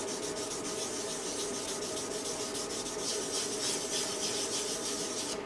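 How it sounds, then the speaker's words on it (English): Steady, close scratchy rubbing of wet sandpaper worked back and forth over a painted furniture finish, a continuous hiss with a faint rhythmic pulse and no talk. "You can hear it scratching away at things. And what you'll do is you'll just keep kind of wet sanding it."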